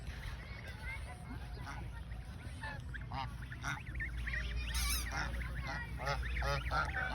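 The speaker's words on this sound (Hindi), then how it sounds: "मेरे सामने एक बत्तख खड़ी है, बत्तख" Ducks with ducklings and geese honk and quack repeatedly at moderate distance, with a murmur of voices and outdoor background noise underneath.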